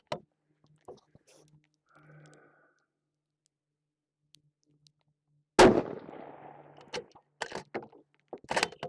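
A single sharp rifle shot fired at a target from a barricade, a loud close crack followed by a short decaying tail, with several fainter clicks and handling sounds around it.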